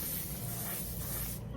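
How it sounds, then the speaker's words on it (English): A mattifying waterproof setting spray is misted in one long continuous hissing burst, close and steady before cutting off at the end. "spray myself a little bit with this."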